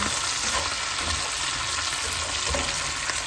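Squash and string beans sizzle and fry steadily in a hot pan, a dense, continuous crackle heard up close with occasional stirring clatter.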